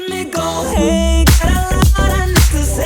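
A weird womp tone on a synth, played within a Logic session of a track: loud, heavy bass drops that swoop downward and repeat several times, with no voices.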